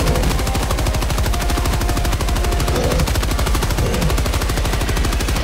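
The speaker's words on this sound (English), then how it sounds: "I got a minigun right behind you that's going to murder your ass" A minigun in Helldivers 2 fires a long, unbroken burst, its rapid mechanical stutter of shots hammering loudly and evenly throughout without pause.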